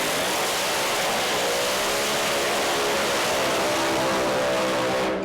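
Pro Mod Camaro drag racing cars at a British Drag Racing Championship round blast loud and continuous, a dense roaring engine tone with rising harmonic bands as they accelerate, filling the whole stretch with no talk.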